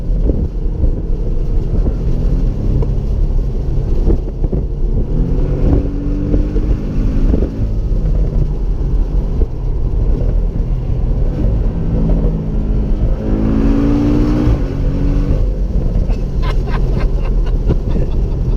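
A 2017 Porsche 718 Boxster S accelerates on the road, its engine a loud, steady drone that rises in pitch, heavily buffeted by wind noise throughout.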